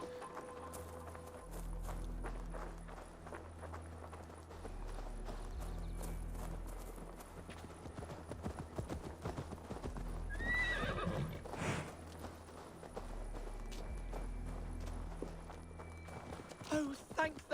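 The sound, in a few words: horse hooves and neigh in the video game Assassin's Creed Valhalla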